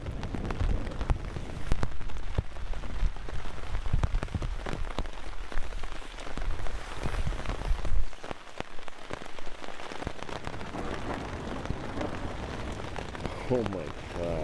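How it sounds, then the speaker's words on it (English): Steady rain patters and drums on a taut tarp overhead during an overnight thunderstorm, dense and continuous, with occasional heavier bursts of drops. "The rain is super peaceful."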